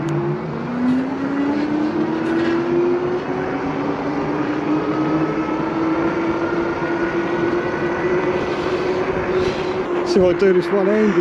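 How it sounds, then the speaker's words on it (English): Engwe Engine Pro fat-tyre folding e-bike motor whining steadily, its pitch climbing slowly as it assists, heard close over continuous wind and road rumble while someone talks briefly. "Hear the motor kicking in"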